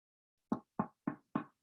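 Four firm knocks on a door at an even, quick pace, close and clear with silence between them.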